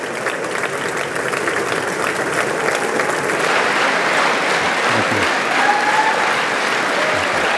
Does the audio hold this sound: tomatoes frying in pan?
no